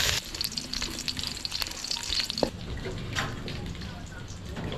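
Meat searing in hot cooking oil in a pan, a steady loud sizzle and crackle throughout, with clinks of stirring and a person talking over it.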